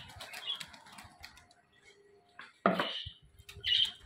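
Pigeons flap their wings while being fed grain, with a sudden loud burst of wingbeats in the middle and another flurry near the end over light background rustling.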